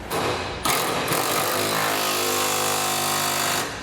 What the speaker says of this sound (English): Now we're going to tighten up the remaining bolts here on our rear cross member.